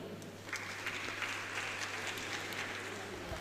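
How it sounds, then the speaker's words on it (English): An audience at a national youth dialogue in The Gambia applauds a performing group with faint, steady, distant clapping over a low hum. "A round of applause for them"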